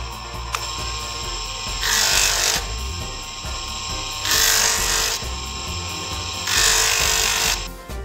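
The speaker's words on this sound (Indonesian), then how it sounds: "Terakhir kita amplas nomor 600" A brass pendant gets a final pass with 600-grit sandpaper: a constant power-tool hum breaks into three long, loud, hissing sanding bursts of about a second each, close to the microphone, with no talking.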